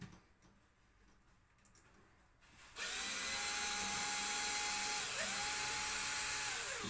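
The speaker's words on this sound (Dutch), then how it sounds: "Ik heb de boor even gepakt." A power drill whirs steadily at close range after a few seconds of quiet rustling, holding a loud constant pitch with a brief speed change near the end.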